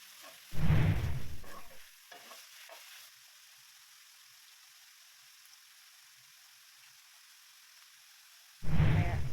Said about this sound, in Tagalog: So, halu-haluin lang po natin iyan.